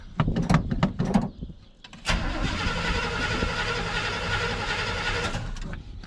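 An old Chevrolet Squarebody truck engine cranks on a cold day in a few rough, stuttering bursts, then catches and runs with a steady, close, loud idle.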